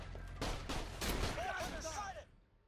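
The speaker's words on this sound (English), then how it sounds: "Let's try out this shotgun." A shotgun in Borderlands: The Pre-Sequel fires several rapid, punchy blasts in a burst, loud and close, with rising whine-like effects and a quick decay at the end.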